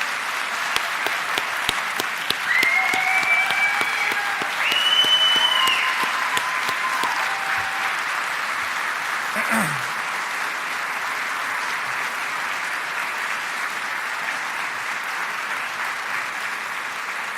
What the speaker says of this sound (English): Please join me in giving Sarah a round of applause.